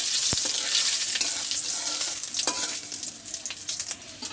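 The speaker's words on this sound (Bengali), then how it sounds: "5 ফোড়ন শুকনো লঙ্কাটা আমি একটু ভালো করে ভেজে নেব।" Cumin, Bengali five-spice and dried red chillies frying in hot oil for a village-style spinach dish, giving a steady close sizzle with a few sharp clicks of stirring, fading slightly toward the end.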